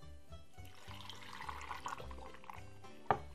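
Half a glass of water pours into a blender holding beetroot and honey for a drink, a short, soft liquid trickle up close that ends with a small clink.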